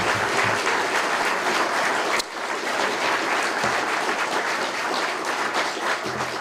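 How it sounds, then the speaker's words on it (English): An audience at a city police and firefighter awards ceremony applauds the Midland City Honor Guard with a dense, sustained round of clapping that fills the room and holds steady for several seconds, with no talking over it. "Ladies and gentlemen, please give it up for our Midland City Honor Guard."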